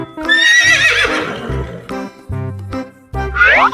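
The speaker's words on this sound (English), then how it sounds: "Horse and foal." A horse gives a long, loud whinny, then a second shorter neigh near the end, with clip-clopping hooves and plinking musical notes in between.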